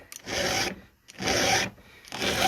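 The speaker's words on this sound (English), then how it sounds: "I'm not counting anything, I'm just filing." Hand file rasping across a chainsaw chain's cutters in three long, steady strokes separated by short pauses, close and fairly loud with no talking.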